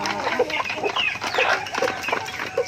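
Several heritage breeder chickens in a breeding pen cluck and murmur close by in a busy, overlapping chatter, with occasional higher squawks mixed in.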